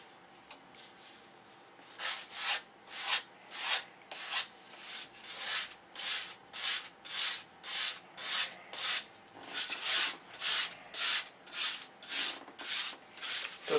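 Aircraft flap being hand sanded into an airfoil shape, a steady run of rhythmic rubbing strokes, each a bright abrasive swish, repeating about twice a second, close and fairly quiet with no talk.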